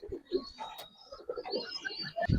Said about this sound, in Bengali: এই যে এখানে মনে করেন আরো সুন্দর সুন্দর কিছু কবুতর আছে